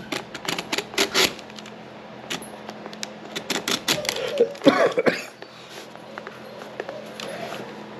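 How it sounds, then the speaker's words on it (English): A knife cuts through the stitches of a lackey sided boot being stripped for resoling, giving sharp irregular snips and clicks close by, with quieter scraping between them and no speech. "So I'm just going to work around and cut all of these stitches."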